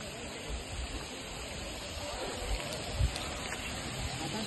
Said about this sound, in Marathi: पाऊस पण मस्त आलाय बघा.